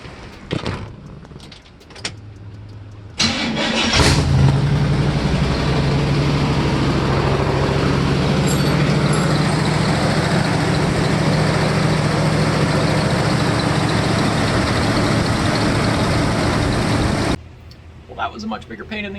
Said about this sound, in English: we're gonna give it a little starter juice because we haven't started her in a while. And then let's see